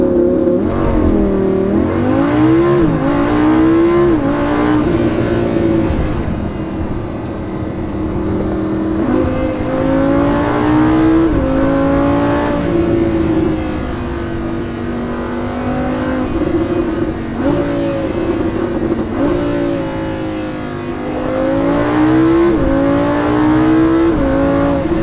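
A Lamborghini Huracan supercar engine roars loud and close as it drives, revving and accelerating through repeated rising pitch sweeps with gear changes, continuous for the whole stretch.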